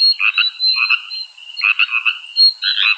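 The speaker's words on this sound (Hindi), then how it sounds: "बाहर से मेंढकों की आवाज आ रही है" Frogs croaking outside after rain at night, loud and close, in repeated rhythmic bursts of trilling calls separated by short pauses, with no other sound or voices.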